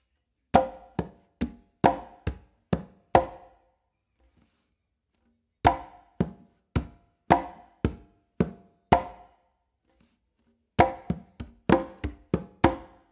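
Congas played in three groups of crisp hand strikes, each group a quick run of about six to seven sharp hits, separated by silent pauses, close and dry, forming the first three hits of a 3-2 son clave.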